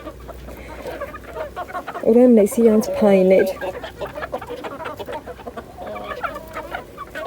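Domestic hens cluck in a short burst while pecking at food in a backyard coop, the calls close and fairly loud against a steady background, with someone talking before and after.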